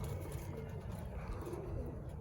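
Young racing pigeons in a loft coo softly in low, murmuring bursts, fairly quiet and close, over a steady background hum.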